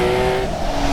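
A naturally aspirated 4.0-litre flat-six in a Guntherwerks Porsche 911 Speedster with a lightweight single-mass flywheel revs loud and close, a dense sustained engine roar with a brief dip in pitch midway.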